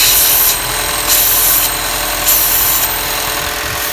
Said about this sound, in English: it is a very aggressive suction.